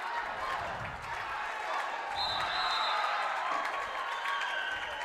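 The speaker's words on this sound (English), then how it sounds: "the crowd giving an ovation for Milo Ventura" Crowd applause and cheering fill the arena at a youth short track speed skating championship race in Buffalo, a steady, fairly distant broadband wash of clapping that holds for several seconds.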